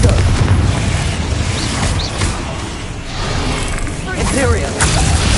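Blasting-spell explosions from the Hogwarts Legacy video game, a series of dense booms and whooshing bursts that fill the whole stretch at high level, layered with busy combat effects.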